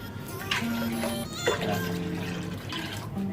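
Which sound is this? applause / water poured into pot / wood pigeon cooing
water poured into pot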